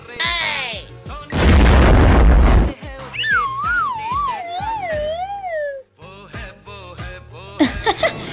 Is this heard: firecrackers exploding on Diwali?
yes